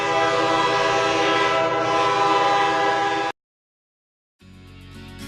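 A heavy train passing with its horn sounding, a loud sustained blare over rumbling rail noise that cuts off abruptly, then resumes more faintly after a short silence.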